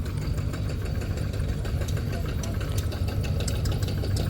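A tractor engine idles close by in a steady, loud, knocking low rumble, with people talking over it.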